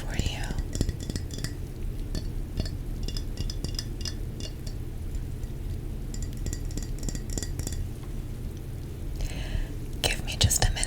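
A ceramic mug being handled and set down in a quiet ASMR setting, with soft clinks and taps near the microphone scattered among gentle handling sounds and a whispering voice.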